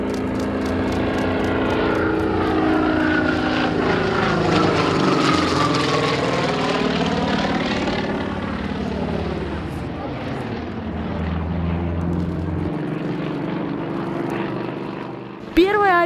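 An aerobatic plane flies a loop at a 2020 small-aviation air race, its propeller engine droning loudly and sweeping up and down in pitch as it passes, with a narrator talking over it.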